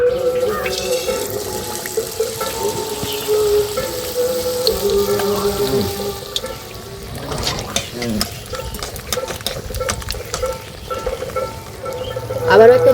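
Battered brinjal slices fry in hot oil in a wok, bubbling and crackling unevenly alongside clattering, scraping and splashing sounds as more slices go in.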